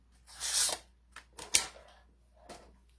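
Mint Macaron cardstock is scored for a card, with a longer scraping stroke followed by several short crisp taps and clicks from the scoring tool, close and quiet in a still room.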